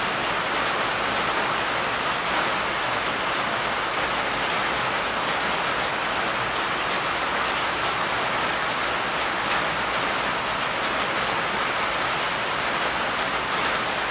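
Steady rain falling outdoors near a pool, an even, loud hiss of drops continuing unbroken throughout with no voices.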